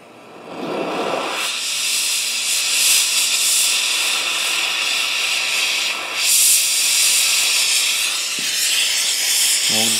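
Propane-oxygen torch flame hissing steadily and loudly at close range while heating a coin, a continuous broadband roar with a brief surge near the start and slight swells, no talking.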